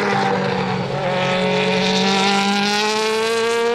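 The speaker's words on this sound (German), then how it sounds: "Wer zum ersten Mal den imposanten Sound der 4-Liter V8-Motoren gehört hat" Several 4-litre V8 DTM race cars of the 2012 season roar past together, loud and sustained, their engine notes layered and shifting in pitch across the whole stretch.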